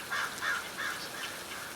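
A cartoon crow caws three times in quick, harsh calls, then gives a couple of fainter caws, all fairly quiet against a soft background hiss.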